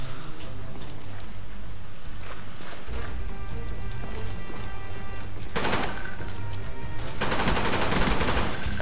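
Enfield rifle fire in the Black Ops shooter, with bursts of shots rising sharply in the second half over a steady bed of game noise.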